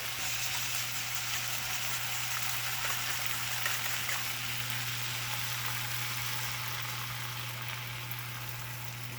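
An egg fries in olive oil in a pan, giving a steady, close, rain-like sizzle with fine crackle that holds even throughout, alongside a low constant hum and no talking.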